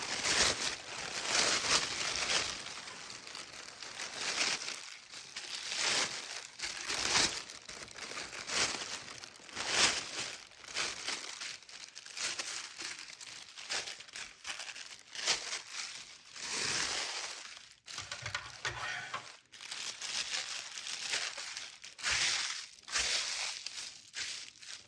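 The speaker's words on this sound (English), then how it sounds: "And I'm going to start by straightening out the plastic bag." A plastic bag is straightened out and flattened by hand, giving loud, close crinkling and crumpling bursts that come and go in irregular waves, with no talking.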